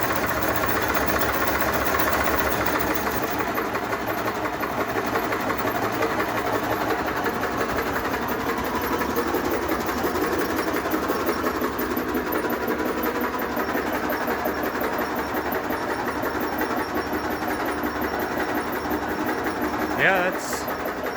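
A motorized variable-speed screener sifting compost and worm castings runs with a steady, continuous mechanical drone and rattle, holding a constant level throughout with a brief knock near the end.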